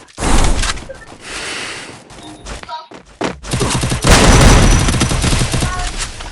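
Rapid bursts of gunfire from a Free Fire battle fill the scene, loud and dense, with machine-gun rattles and volleys that pause briefly before resuming heavily.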